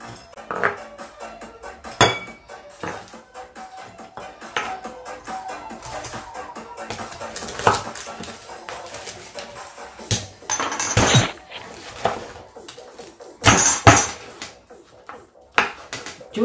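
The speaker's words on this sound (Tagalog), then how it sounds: "iwain na natin ang ating pork belly. Ang lutong niya, guys." Knife slicing through crispy crackling pork belly, producing irregular crunchy crackles and sharp clinks against a plate or board, bursts growing denser and louder toward the end, no talk.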